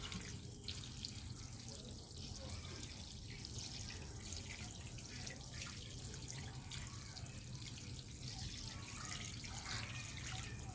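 Water is poured over potted chrysanthemum plants growing in cinder, soaking them thoroughly, making a faint, continuous splashing trickle with no pauses and no voices.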